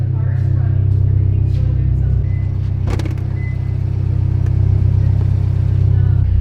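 A built Subaru STI engine drones loudly from inside the moving car on its first drive, a continuous low rumble that holds steady throughout, with a brief rattle partway through.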